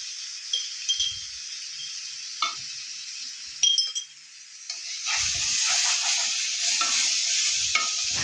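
A masala mix with salt and turmeric is stirred in a pan, giving light scraping strokes and soft clinks, then a fuller sizzling fry sets in and continues under the stirring.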